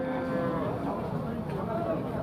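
Six-month-old young bull calves at a livestock bazaar moo in a drawn-out, tonal low call, close and clear over a busy market murmur with faint voices.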